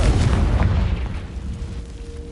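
A Confringo fire blast spell cast in Hogwarts Legacy, heard as a loud, close explosive boom that trails off into a rumbling decay with a faint lingering tone.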